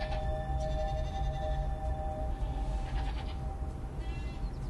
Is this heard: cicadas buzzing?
no